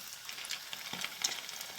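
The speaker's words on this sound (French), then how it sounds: "Je viens le déposer dans ma friture." A breaded homemade cordon bleu sizzles as it is lowered into hot frying oil, a close, steady crackle with small pops and spits.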